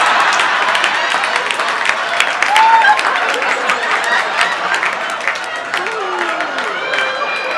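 A live comedy audience at the Promontory in Hyde Park, Chicago claps steadily, a dense, loud wash of applause sustained throughout with crowd noise and scattered voices mixed in.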